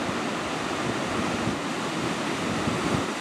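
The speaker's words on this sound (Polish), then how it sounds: "fale rozbijają się o cały tutaj ten, no powiedzmy, występ skalny, półkę" Waves crashing against a rock ledge near Natural Bridge in Torndirrup National Park, Albany, Australia, a continuous loud surging roar of surf with wind noise, no voices.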